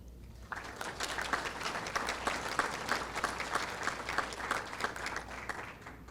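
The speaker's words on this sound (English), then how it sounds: "I keep interrupting y'all with the clapping" Sustained applause from an audience at a school board meeting, dense steady clapping that holds from start to finish at a fairly close distance.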